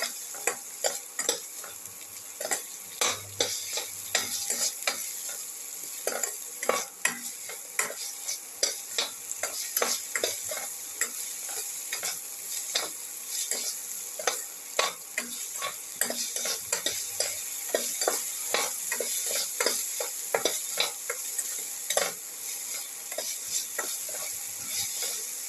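Potato and tomato sauté in a pan, giving a steady sizzle broken by frequent scraping and clinking spoon strokes for the whole stretch, with no voices.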